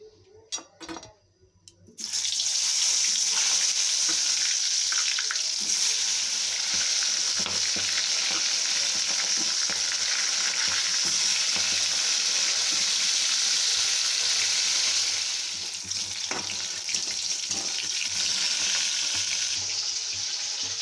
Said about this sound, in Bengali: এবার এই গরম তেলের মধ্যে আমি পটলগুলোকে লাল লাল করে ভেজে তুলে নেবো